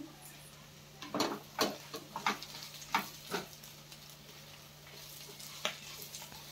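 Spiny gourd (aakakarakaya) fries in a pan with a soft, low sizzle, punctuated by a series of quick clicking scrapes as it is stirred, heard close and fairly quietly.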